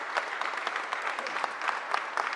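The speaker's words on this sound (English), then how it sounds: "can we get a round of applause for the energy that this mayor brings to the room?" Steady applause from a room full of people at a mayor's press conference, dense and even throughout, with no talking over it.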